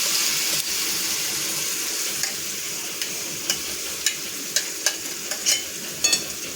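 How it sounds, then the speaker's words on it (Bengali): Onion paste frying in a pan hisses steadily at a moderate level. Sharp pops and spatters grow more frequent toward the end. "এবার আস্তে আস্তে পেঁয়াজটা ভাজা হোক"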